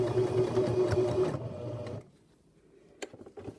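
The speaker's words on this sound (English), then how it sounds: "you're stitching all the way across until you can backstitch at the other side" A sewing machine runs fast across fabric for a waistband casing, then stops after about two seconds, leaving quiet handling noises and a couple of light clicks.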